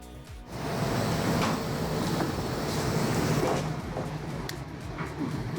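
A four-head automatic liquid filler, model PFM-4C, runs a fill cycle with a loud, steady broadband whooshing and hissing rush. Faint clicks sit close by, and the sound eases slightly toward the end.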